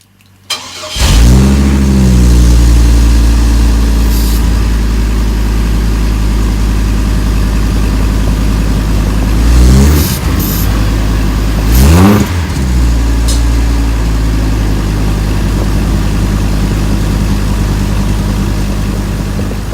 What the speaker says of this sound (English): Start up after doing that throttle body clean, it may run a little bit rough